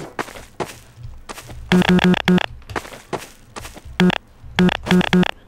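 Short clicky blips from pressing the interact key in The Stanley Parable sound in small bursts of three or four quick taps, repeating a few times over a low, murky ambient background.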